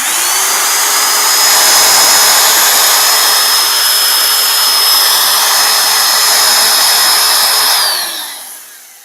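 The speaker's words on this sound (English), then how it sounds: "So this is a pretty noisy drill." An old, noisy 1980s power drill runs loud and close with a steady high whine for about eight seconds, then spins down and fades.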